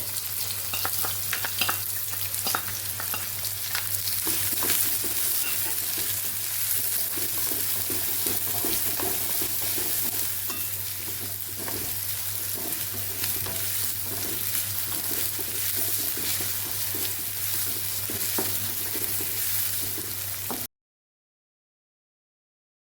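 Chopped onion frying in hot oil with ajwain, bay leaf and dried chilli for a Gujarati tuver totha curry, a loud continuous sizzle with stirring scrapes throughout, no talk.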